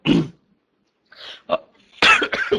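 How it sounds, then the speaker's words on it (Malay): A loud cough opens, followed by a pause and then a few more sharp coughing bursts, close by with no talking. "batuk pula dah"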